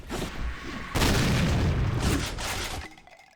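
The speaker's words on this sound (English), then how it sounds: "That's an octo shotgun, baby." Heavy blasts from an eight-barrel octo shotgun in Doom 2 with the Guncaster mod, a loud booming discharge followed by a second sustained roar of fire and noise that tails off near the end.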